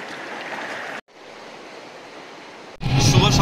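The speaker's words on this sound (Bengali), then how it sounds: "নদীর স্রোতের প্রচুর আওয়াজ, যার জন্য আমার গলার আওয়াজ থেকে আরো তীব্র করতে হলো।" The Rangit River rushes in a strong, continuous roar near Bijanbari. The roar breaks off briefly and then grows louder and harsher at the end.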